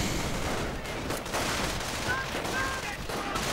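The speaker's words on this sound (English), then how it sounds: "Grenades getting exchanged as usual." Battle din from a 1v1 online strategy game match, with rolling, continuous gunfire and blasts as grenades are traded back and forth, dense and steady throughout with no clear pauses.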